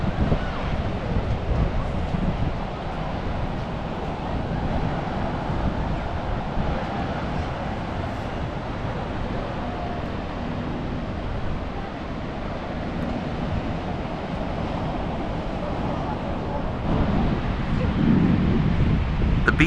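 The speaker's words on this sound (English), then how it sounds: "You can see surfers riding the powerful waves throughout the day." Ocean waves breaking at Bondi Beach in Australia, a popular surfing spot, form a steady, continuous roar of surf with wind buffeting the microphone throughout, growing slightly louder near the end.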